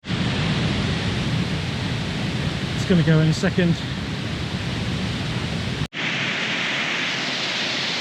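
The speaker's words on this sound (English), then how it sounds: "I know you're probably going to be able to hear the water more than me." Steady, loud rushing water fills the whole recording like a nearby waterfall, with a brief voice speaking over it partway through.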